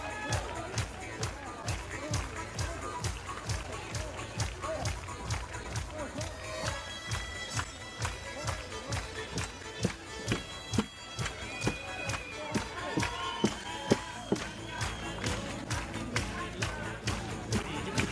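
A large crowd roars and claps at a 5v5 armored fighting event, loud and continuous, with rapid thumping hits and commentary voices running over it throughout.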